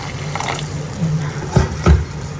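Boiled water poured into flour for making dhido, heard as a soft liquid splash and trickle with a couple of low, thick glugs close by, no one speaking.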